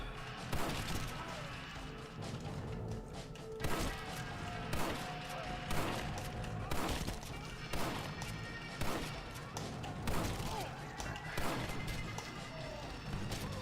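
Explosions and gunfire in Red Dead Redemption multiplayer: sharp, loud blasts and shots burst out repeatedly at irregular intervals over a constant rumbling background.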